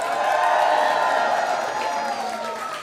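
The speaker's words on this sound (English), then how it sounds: "Wow, what a great crowd." A crowd at Larry Hogan's victory speech after being projected winner of the Maryland Senate race roars and cheers in a sustained swell that fades slightly toward the end.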